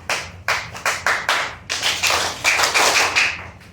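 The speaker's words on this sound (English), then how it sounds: "I'm going to clap 5 times, then you copy me" Hands clapping in a room during a lesson at a model matzah bakery, a run of sharp, evenly spaced claps close by, about eight in all, with no talk between them.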